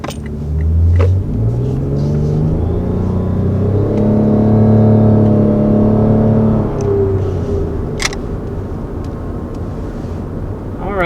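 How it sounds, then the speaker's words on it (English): A 2020 Lexus RX 450h hybrid accelerates from inside the cabin, its engine tone climbing in steady rising harmonics over a low road rumble, loud and continuous, then easing off near the end, with no talking. "that's our first acceleration in the hybrid version of the RX"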